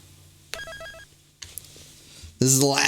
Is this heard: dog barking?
no